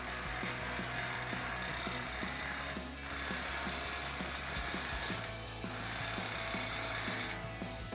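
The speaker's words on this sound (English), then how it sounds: "I'm going to take a 22 millimeter, my 3/8 gun, and we're going to tighten these up." A 3/8-inch impact gun drives 22 mm steering bolts on a Jeep Wrangler JK, hammering in a steady rapid rattle that runs continuously at close range with brief pauses.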